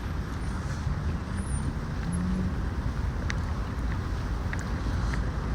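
Loud cars on a busy Moscow street: a steady, unbroken roar of passing traffic, with wind buffeting the microphone throughout and no talk.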